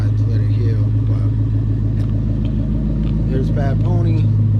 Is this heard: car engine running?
yes